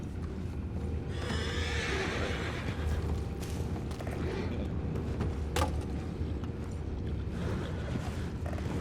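Horse neighing in Red Dead Redemption 2 over a steady outdoor bed of ambient noise, with clip-clop hooves and faint creaks around it.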